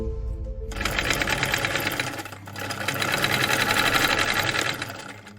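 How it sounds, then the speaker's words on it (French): A sewing machine stitching and patching vintage clothes runs in a loud, continuous mechanical whir at close range, briefly pausing mid-way before resuming, with no voices. "Depuis 3 jours, Morgane coud, rapièce et découpe jusqu'à ce qu'elle obtienne le résultat qu'elle souhaite"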